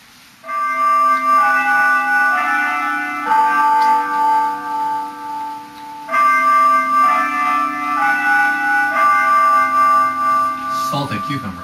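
The 9 o'clock village chime rings out over rural Japan. It is a loud, sustained electronic bell melody with clear tonal notes in two long phrases, heard alone without talk.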